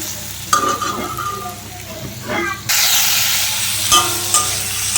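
Vegetables fry in a pan as they are stirred with salt and spices, with scraping and clatter at first, then a loud, steady hiss of sizzling swelling up and continuing to the end.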